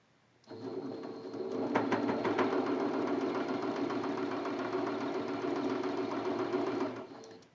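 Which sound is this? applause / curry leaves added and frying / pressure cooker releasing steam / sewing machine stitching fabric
sewing machine stitching fabric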